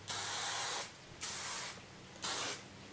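Hairspray from an aerosol can hisses onto hair in three bursts, each about half a second to nearly a second long with short pauses between them, close and fairly quiet.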